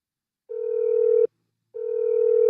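Telephone ringback tone on an unanswered call, two steady buzzing tones of under a second each, separated by a short silence, clear and alone.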